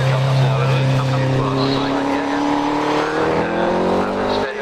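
Hillclimb race car at Harewood on a wet course, its engine droning steadily and fairly loud as it runs up the hill, with a commentator talking over it.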